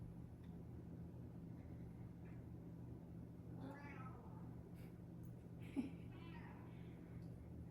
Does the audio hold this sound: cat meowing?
yes